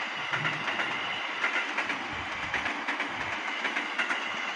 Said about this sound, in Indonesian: Kereta api kontainer,